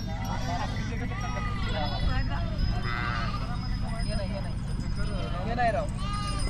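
Sheep bleat repeatedly from a flock travelling with a palanquin procession, the calls rising over a constant crowd murmur and loud voices talking throughout.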